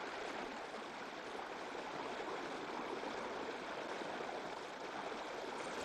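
A mountain stream runs through a deep gorge with cascading waterfalls, giving a constant broad rushing roar, steady and unbroken, with no voices.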